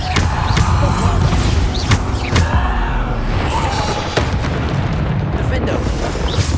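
Bombarda spell explosions in the video game Hogwarts Legacy, a series of loud close booms and crashes layered over continuous battle noise with other spell effects.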